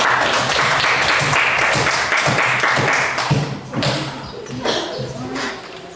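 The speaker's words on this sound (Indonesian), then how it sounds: "Mari kita beri aplaus kepada teman-teman yang sudah berhasil menjawab" Applause from students in a classroom during a Quran lesson, a dense run of clapping that fills the room and trails off into scattered claps toward the end.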